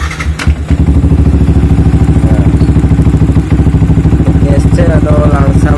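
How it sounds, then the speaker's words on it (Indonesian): A Yamaha R15 V3 motorcycle engine starts with a few rough thumps, then settles into a loud, steady, pulsing idle close by, running alone without speech. "Kita nyalakan mesinnya."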